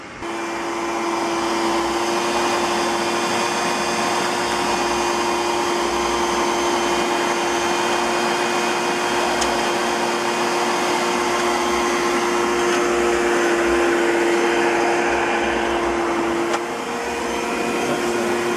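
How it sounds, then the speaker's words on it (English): Newly repaired pool pump running, a loud, steady motor hum with a constant whining tone, close and continuous for the whole stretch with a brief dip near the end, no voices. "I now have an operational pump, and that's working"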